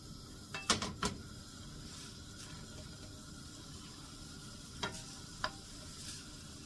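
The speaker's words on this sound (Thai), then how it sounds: "ผัดกะทิกล่องนึงนั่นแหละ แกงขี้เหล็ก" Coconut milk being stir-fried in a pan for a Thai curry with cassia leaves (kaeng khi lek): a low, steady sizzle runs throughout, with a few sharp scrapes and clacks of a utensil against the pan near the start and again later.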